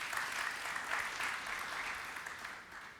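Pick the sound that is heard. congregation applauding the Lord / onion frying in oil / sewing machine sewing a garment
congregation applauding the Lord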